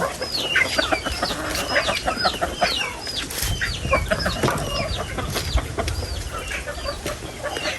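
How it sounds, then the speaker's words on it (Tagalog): Chickens cluck steadily in a busy farmyard chorus, with overlapping calls and other birds chirping close by. "Alagang manok."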